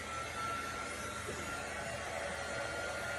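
A hair dryer runs continuously at close range with a steady, even whirring drone, drying a heat transfer with no change in pitch or level.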